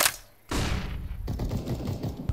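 A flashbang grenade going off on the Inferno map in a Counter-Strike match, a sharp burst at the start, a brief quieter gap, then a loud sustained rush of ringing noise with gunfire-like crackle continuing to the end.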